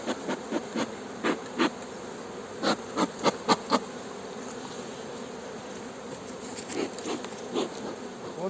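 Honeybees hum steadily in an open hive while a swarm is being settled, a soft continuous drone with repeated louder buzzing passes of individual bees close by.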